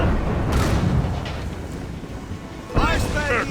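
Ship cannons firing during a naval battle in the video game Assassin's Creed Rogue, a heavy broadband boom near the start and another burst late, over constant wind and sea noise with a voice calling out.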